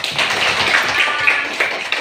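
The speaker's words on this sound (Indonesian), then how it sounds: "Ya, tepuk tangan dulu." A classroom of students clap their hands together, a dense, steady patter of claps lasting a couple of seconds.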